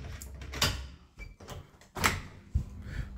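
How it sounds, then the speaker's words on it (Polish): A house door onto a garden is opened at night, giving a few close clunks and a latch-like thud with brief rustling, fairly loud against a quiet room. "Otwieramy drzwi."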